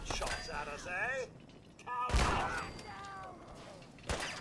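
Gunfire in Fallout 4 during a fight in the Fens: sharp shots and thuds break out among game voices and effects, with a loud burst near the middle and another at the end.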